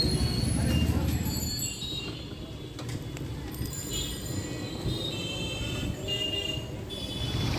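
A train rumbles past a closed railway crossing on a rainy day, a steady heavy rolling roar that is loudest at first and then holds at a constant level.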